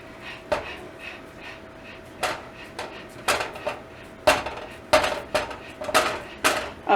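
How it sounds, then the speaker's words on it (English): A metal utensil pokes again and again into a baked chicken tamale casserole, each jab a sharp clink against the dish. The taps fall at an irregular, quickening pace close by, with no talking. "I'm going to poke some holes into this"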